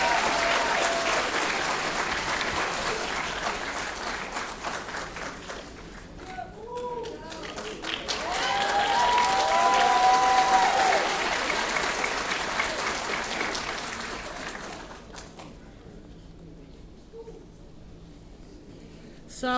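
A graduation audience applauds the class of 2023 valedictorian in a hall, a steady wash of clapping that swells in the middle and thins toward the end, with cheering voices mixed in.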